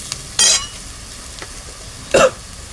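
Onion frying in a pan under a soft, steady sizzle, broken by two short, sharp scraping strokes of a stirring spoon about two seconds apart, heard close with no talk.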